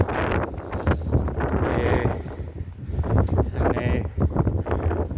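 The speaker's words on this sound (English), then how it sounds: "It really is very windy." Strong wind buffets and rumbles against the microphone in uneven gusts, loud and close throughout.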